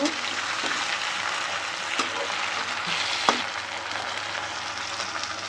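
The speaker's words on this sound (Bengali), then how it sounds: "টমেটোগুলো দিয়ে ভালো করে একটু ভেজে নেব।" Chopped tomatoes frying in a pan for a fish curry, a continuous close hiss of oil with a few sharp clicks of a spatula against the pan.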